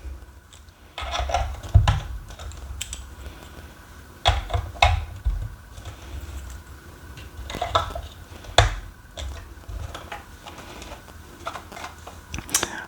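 Small plastic missile parts snap onto a GI Joe Wraith prototype toy model with several sharp, close clicks at irregular moments over faint handling rustle.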